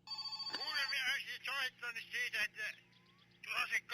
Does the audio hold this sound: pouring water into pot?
no